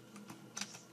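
A few quiet, close keystrokes tap on a computer keyboard while code is typed, spaced unevenly with a slightly louder pair near the end and no talking.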